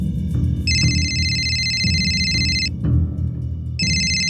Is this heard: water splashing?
no